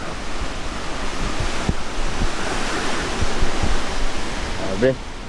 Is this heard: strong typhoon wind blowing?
yes